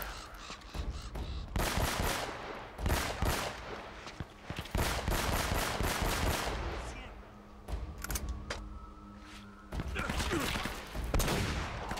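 Sniper gunfire in Uncharted: Drake's Fortune, heard as a series of sharp shots mixed with other gunfire and game effects, spread across the scene at moderate loudness.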